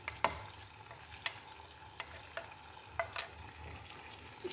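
Spices for baigan biryani being mixed in a frying pan: a soft, continuous sizzle broken by regular sharp scrapes and taps of the spoon against the pan, close and fairly quiet, with no voices.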